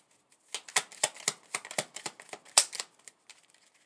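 Tarot cards being shuffled by hand to draw a clarifier, a quick run of sharp papery riffles and flicks, close and fairly soft, with no talking.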